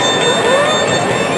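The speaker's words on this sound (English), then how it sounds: "I had to find the clangs and whoops" Game show sound effect of clangs and whoops from a pricing game, a loud, continuous run of bright metallic ringing tones with rising and falling whoops across the whole short moment.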